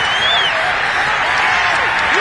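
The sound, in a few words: crowd cheering a touchdown in a football video game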